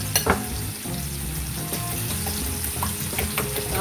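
Eggs seasoned with black peppercorn are whisked in a bowl, giving a steady stream of light scraping and clicking, with a few sharper taps at the start.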